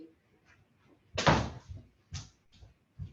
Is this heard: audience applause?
no